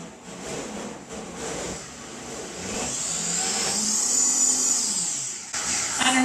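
A Vitamix blender running on onion for vegan cheese, a loud steady whirring motor with a high whine that rises in pitch partway through and keeps going to the end.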